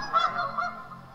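Geese in a cramped farm goose pen honk in a short burst of several nasal calls close by, no talking.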